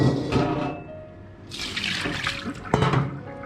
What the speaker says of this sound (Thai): เทน้ำ